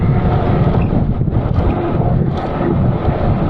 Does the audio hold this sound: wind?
yes